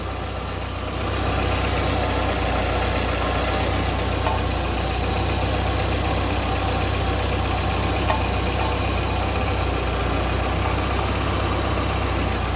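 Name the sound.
car engine idling, possible exhaust gasket leak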